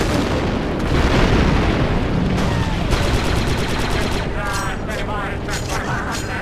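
Battle noise from Star Wars Republic Commando roars loud and continuous, with heavy booms and blasts from planted explosives and artillery over rapid weapon fire and chirpy electronic effects.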